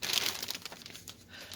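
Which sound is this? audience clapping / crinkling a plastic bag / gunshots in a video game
crinkling a plastic bag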